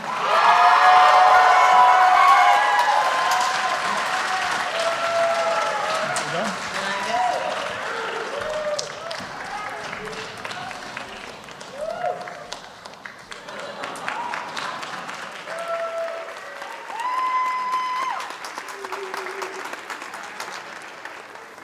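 Graduation audience for a 2022 arts high school class applauds the graduates, a long, loud wave of clapping and cheers that gradually settles and then swells again.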